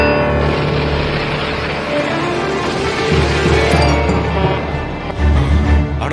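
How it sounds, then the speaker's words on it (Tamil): A cartoon vehicle starting up by itself: a loud, steady engine-like drone with low rumbling tones that holds continuously and swells slightly toward the end. "என்னாச்சு என் வண்டிக்கு திடீர்னு தானா ஆன் அடிக்குது?"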